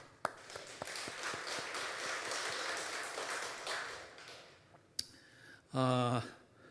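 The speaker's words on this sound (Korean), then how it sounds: "우리 성가대에게 박수 한번" A church congregation claps for the choir during a Sunday worship service: dense, steady applause for about four seconds that fades out, followed by a brief spoken voice.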